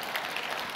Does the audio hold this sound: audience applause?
yes